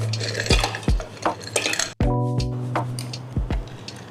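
Ice cubes clatter and clink into a glass for an iced black tea drink, several sharp knocks spread over a few seconds with a ringing glassy tail after each drop.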